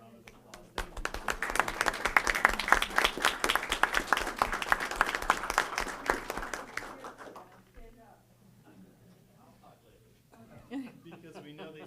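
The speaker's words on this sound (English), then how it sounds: "I'd like to just give you guys a round of applause" Applause from an audience at a school board of education meeting honoring board members' families, a dense crowd clapping that builds and holds for about six seconds, then fades into quieter room noise and a few scattered claps.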